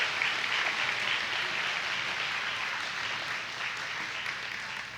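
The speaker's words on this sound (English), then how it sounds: "Let's give them a big round of applause and let them know how excited we are for them." A crowd at a county fair queen and princess pageant applauds in a continuous, even roar of clapping that stays steady and slowly eases, with no voices over it.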